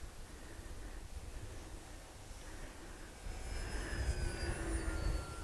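Quiet, distant drone of an RC model Il-2 airplane cruising at just over half throttle, a steady engine whine that swells slightly louder toward the end with faint wind noise.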